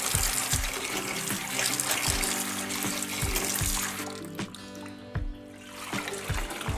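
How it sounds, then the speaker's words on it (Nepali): Water runs and splashes over mixed legumes held in a perforated colander as they are rinsed before sprouting, a steady close wash with a faint rhythmic thump underneath. "यस्तो प्वाल भएको आलीमा गेडागुडीहरूलाई राम्रोसँग पखालेर"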